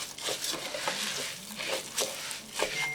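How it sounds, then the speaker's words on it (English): Nigerian Chinese fried rice stirred in a pot: soft scraping and shuffling strokes of the spoon through rice, coming in uneven pulses over a faint sizzle, quiet and close. "I'm going to stir all of this, mix it in properly."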